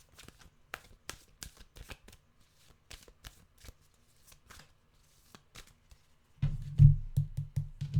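Tarot cards are shuffled in a quick run of soft riffling flicks and taps, with a louder, denser burst of shuffling near the end; no one speaks.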